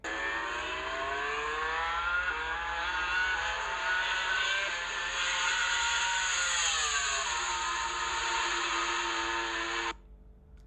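A Yamaha V4 MotoGP racing engine revs with a deep, heavy, bassy drone, holding high rpm then dipping and rising again, loud and sustained for about ten seconds before cutting off.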